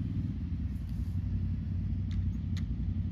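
A Yamaha Wolverine R-Max UTV in sport mode on a four-wheel drive run, giving off a steady, droning low engine rumble with faint higher clicks over the top.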